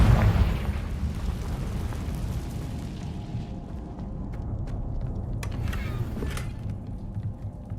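Confringo fire spell exploding in the Hogwarts Legacy video game, a loud booming blast at the start that rumbles and fades into a low crackling tail with faint clicks.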